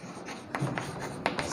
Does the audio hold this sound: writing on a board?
yes